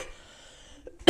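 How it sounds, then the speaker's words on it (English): A single sharp, loud cough bursts out at the very end after near silence. "bad cough day"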